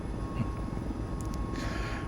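A Mil Mi-17 helicopter in Microsoft Flight Simulator drones on with a steady low rotor and engine rumble, even and continuous, heard from inside with no talk over it.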